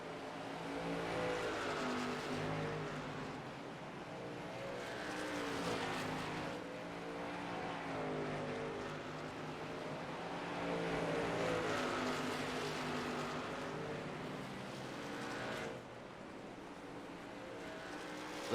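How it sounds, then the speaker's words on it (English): Race cars lap a short oval track at USA Speedway, their engines a continuous layered roar that rises and falls in waves as cars sweep past, heard alone without commentary. "Let's just take a second here just to listen to and appreciate these cars as they go around this short track"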